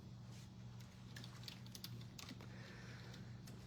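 Typing on a computer keyboard, a run of quiet, irregular key clicks over a low background hum, with no talk.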